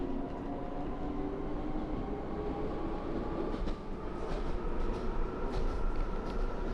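A Minecraft train rolling along a line across the plains, a steady low rumble with faint clacking that stays constant and close throughout, no talking.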